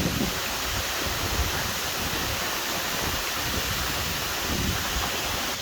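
Grey Mares Waterfall near Kinlochleven, Scotland, rushing in a steady, dense roar of falling water that stays loud and unbroken, with wind buffeting the microphone at times and no voices.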